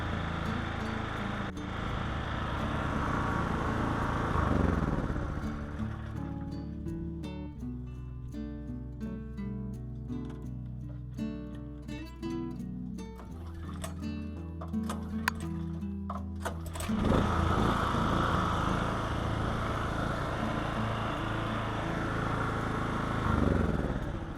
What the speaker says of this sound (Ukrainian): Ось так заводиться генератор на газу, зовсім без бензину.